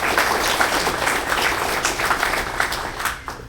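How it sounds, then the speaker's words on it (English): A Christmas party audience breaks into a steady round of applause, many hands clapping together at full strength before it thins out near the end, with no voices over it. "Let's give him a big round of applause."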